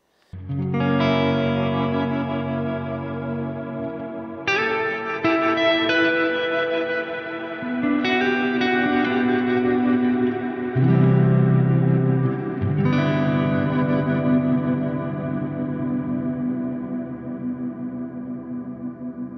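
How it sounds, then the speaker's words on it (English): Sustained electric guitar chords through a Strymon BigSky MX dual reverb preset, washed in lush, spacious reverb, each strum blooming and lingering, with a few new chords struck over the ringing tail. "play dual reverb"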